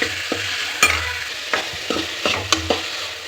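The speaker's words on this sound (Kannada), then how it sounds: "ನೀಟಾಗಿ ಫ್ರೈ ಮಾಡ್ಕೋಬೇಕು ಅದು ಹಸಿ ಸ್ಮೆಲ್ ಹೋಗೋವರೆಗೂ" Masala frying in a pan for paneer peas curry, a low sizzle punctuated by several sharp spatula scrapes and clinks at irregular intervals, close and fairly loud.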